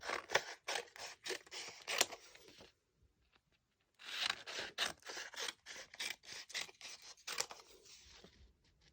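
Scissors snip through paper strips for a woven card background in quick, crisp repeated cuts, close and loud, with a short pause midway before the rhythmic snipping resumes.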